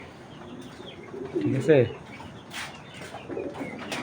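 High-flyer Giribaj pigeons coo in a brief, low, throaty burst, close by, while someone talks over a steady background murmur.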